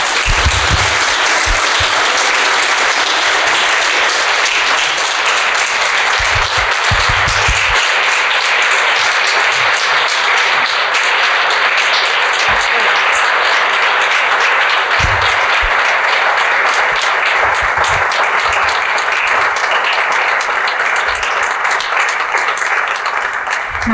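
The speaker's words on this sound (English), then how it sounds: "please, let's give them a final round of applause" A dinner audience gives a loud, sustained final round of applause at a vision-casting dinner, dense clapping that fills the room without pause and stays at an even level throughout.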